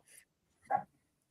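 A small dog at a nighttime investigation at Fort Brockhurst gives a faint, brief whine and then a single soft bark or yelp. Both sounds are quiet and come with silence around them.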